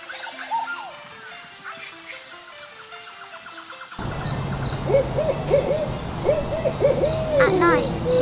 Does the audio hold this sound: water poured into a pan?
no